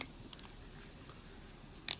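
An iPhone 2G back housing is pressed into place, a faint rustle of handling, then a sharp cluster of clicking pops near the end, close and quiet with no talking.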